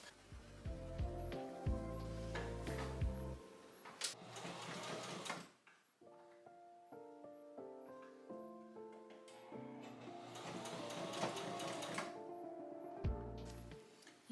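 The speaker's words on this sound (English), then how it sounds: "I'm gonna go ahead and sew around the edge here" A home sewing machine stitches around the edge of pajama fabric in several close bursts of rapid mechanical whirring, separated by short pauses and faint handling noises.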